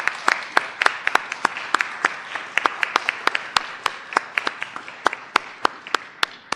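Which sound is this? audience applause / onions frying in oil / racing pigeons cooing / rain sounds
audience applause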